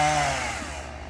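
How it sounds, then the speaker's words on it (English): A brand-new chainsaw runs steadily close by, its loud, buzzing engine drone holding without a break and with no voices over it. "He's afraid to stop that chainsaw."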